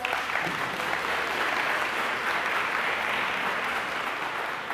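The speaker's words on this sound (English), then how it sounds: "Give them a round of applause" A large audience at a Newark Safe Summer Academy closing ceremony applauds in a steady, unbroken wash of clapping, moderately loud and continuous.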